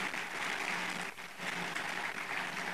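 A large audience at a religious katha gathering in Uganda claps loudly and continuously in thanks to the Somnath Mahadev temple trustees, a broad wash of applause with a brief dip partway through.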